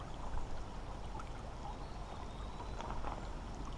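Water flows steadily in a creek with a smallmouth bass fishing spot, a continuous close rushing wash with faint trickles, heard alone with no talk.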